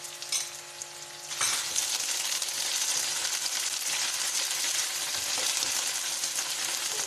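Ginger garlic paste fries with cauliflower in hot oil, opening with a few light clinks and then swelling into a loud, steady, crackling sizzle that fills the rest, with no voices.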